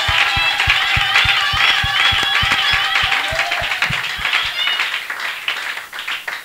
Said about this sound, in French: Pluie d'acclamation pour le roi.